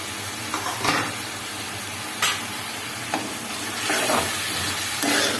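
Tomato pieces dropped into a frying mushroom curry, giving a steady close sizzle with a few louder stirring scrapes and bursts over the continuous hiss, no talking.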